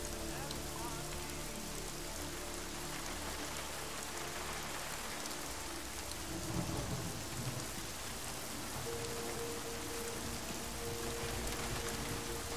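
Steady rain pours throughout in the video game Deus Ex: Mankind Divided, a dense wash of drops with a low thunder rumble swelling briefly in the middle; no voices.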